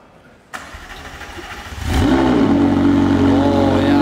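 A McLaren 720S Spider on its factory exhaust starts up after a short click, the engine catching with a sharp rise and then settling into a steady, loud, close idle.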